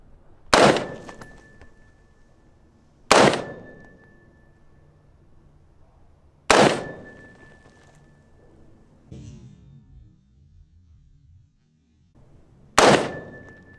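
Four loud, sharp semi-automatic gunshots at an outdoor shooting range, spaced several seconds apart with ringing decay between them, plus a fainter thud midway.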